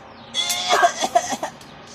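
A few short, sharp coughs from a small child after a vaccination, in quick succession, close by, with a quiet room behind.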